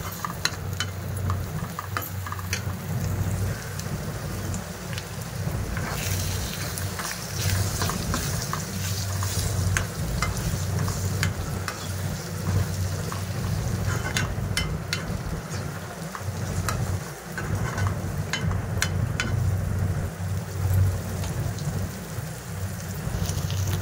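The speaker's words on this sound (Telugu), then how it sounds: "ఇప్పుడు కారం వేసుకొని ఒక్కసారి కలిపేసి 3 కోడిగుడ్లు అయితే వేసుకుంటున్నానండి" Onion, chili powder and three eggs stirred together while frying in a pan for an egg scramble, giving a steady sizzle with scraping stir sounds throughout, close and continuous with no talking.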